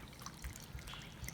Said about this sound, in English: Probably going to add about a cup of water to start with.